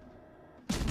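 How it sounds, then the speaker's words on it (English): Warship main guns fire in World of Warships: Legends, a sudden loud burst that breaks a low hum near the end and rings on as a heavy sustained roar. "Shots out from Shannon on Otago."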